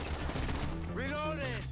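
Gunfire in GTA 5, a rapid burst of game shots mixed with other game sounds while a person talks over it.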